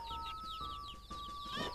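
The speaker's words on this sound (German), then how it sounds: "jetzt werden die alle zu fetten Kukos" Cucco chickens in Zelda: Majora's Mask cluck in quick, bright chirping bursts over a steady game tone, fairly quiet and brief with no speech.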